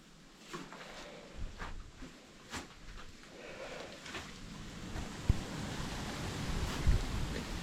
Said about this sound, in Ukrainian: Вітер піднімається.